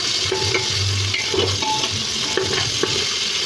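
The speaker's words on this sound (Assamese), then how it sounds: "এতিয়া পনীৰখিনি স্লাইট মানে ফ্ৰাই কৰি ল'ম, বহুত বেছি নহয়, স্লাইট ফ্ৰাই কৰি ল'ম।" Paneer frying in oil for a veg paneer biryani, a steady loud sizzle throughout with occasional scrapes and stirring clinks, no voices.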